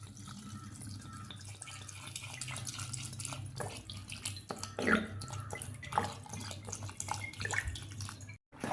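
Ice water poured over freshly churned homemade butter as it is washed in a bowl, a steady splashing, trickling stream close by with a few sharper splashes partway through.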